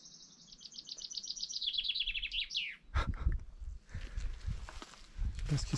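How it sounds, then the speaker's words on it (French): A bird sings a rapid descending series of clear chirps, followed by scattered calls and rustling and soft thumps nearby. "Vous entendez les oiseaux qui se parlent et qui se répondent?"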